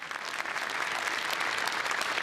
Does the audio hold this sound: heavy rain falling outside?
no